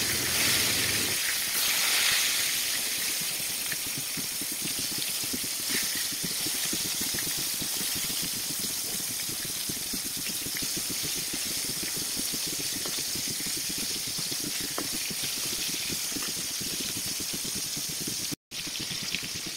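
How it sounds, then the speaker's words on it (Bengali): Hilsa fish frying in a pan, a loud continuous hiss and sizzle with rattling crackle that holds steady for nearly twenty seconds, briefly cut near the end. "খুন্তি দিয়ে একটু চেপে চেপে দেবেন, তাহলে মাছগুলো ভালোভাবে ভেতর থেকে ভেজে ভাজা হয়ে যাবে"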